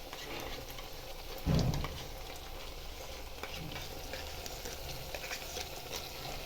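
Green chickpea curry with freshly added yogurt is stirred in a pan, a soft steady sizzle with one brief louder scrape of the spoon early on.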